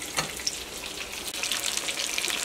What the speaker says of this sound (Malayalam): ഇനി ഇത് നമുക്ക് ഫ്രൈ ചെയ്തിട്ട് എടുക്കണം